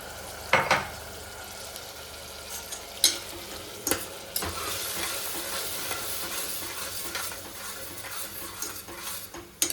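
Steady crackling sizzle of spices tempering in hot oil for masala khichdi, with occasional sharp clinks of a spoon against the pan.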